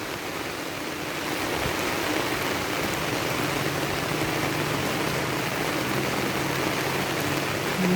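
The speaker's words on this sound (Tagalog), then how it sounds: "Grabe ah, ulan to." Heavy rain pours down steadily, a dense, loud hiss of drops drumming on surfaces that swells after the first second and holds constant throughout.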